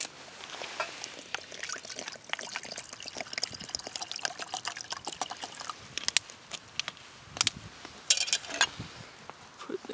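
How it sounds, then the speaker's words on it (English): Water poured into a small pot on an Esbit stove for bush tea, a faint broken trickle with intermittent sharper splashes and clinks over about ten seconds, no talk. "Put some water in there."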